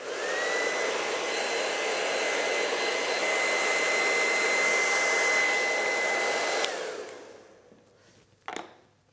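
A hair dryer blows steadily at close range while drying hair, a loud, constant whirring rush with a steady whine that cuts off near the end and is followed by a brief clatter.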